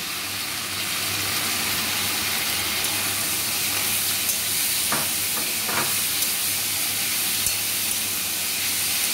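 Steady, hissing sizzle of pointed gourd frying in a kadai, even and continuous, with a few faint clinks of a utensil.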